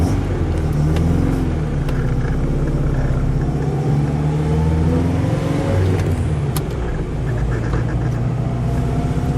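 A 1980 Saab 96 GL Jubileum with its V4 engine running: a steady, loud, close low rumble with an uneven throb, the pitch shifting slightly as it is revved, with no talking.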